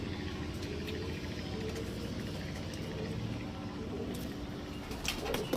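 Pigeons coo softly, low and throaty, against a constant background hum, with a few faint knocks near the end.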